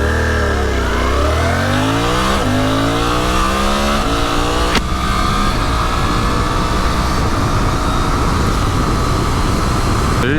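A Suzuki V-Strom 800RE motorcycle engine revs hard through several rising gear pulls, loud and close, then settles into a steady roaring drone with wind noise and no voices.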